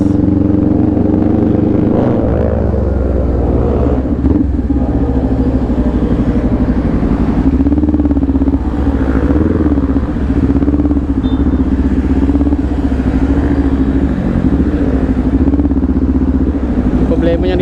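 A Kawasaki Ninja 400 motorcycle riding, its engine droning steadily and loudly for the whole stretch with a constant hum and slight pitch wavers, while a voice talks over it.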